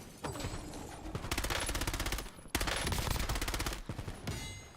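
Rapid automatic gunfire in the video game Warzone, loud and close, in two long sustained bursts separated by a brief pause, with no talking over it.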